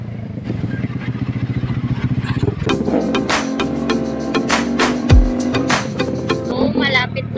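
A motorcycle rides through traffic with its exhaust smoking and running hot: a continuous engine drone with clatter and passing vehicle noise, close and fairly loud, with wind and road noise.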